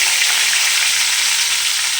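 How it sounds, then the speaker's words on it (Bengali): Garlic sizzles in hot oil left over from frying baby corn, a loud, dense, continuous crackle close up with no voices. "এরপর আমি ওই তেলের মধ্যে সামান্য পরিমাণ রসুন দিয়ে দিয়েছি"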